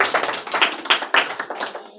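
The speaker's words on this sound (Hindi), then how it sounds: "जोरदार तालियों के साथ में इनका स्वागत कीजिए भैया" Hands clap in a room to welcome a student at a school prize-giving, a scattered group of sharp claps at an uneven rhythm, close and fairly loud.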